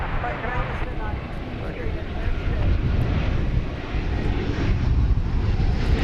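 An American Airlines plane in America West livery at DFW Airport gives a continuous low engine rumble with wind-buffeted texture, fairly loud and steady, while a voice talks over it.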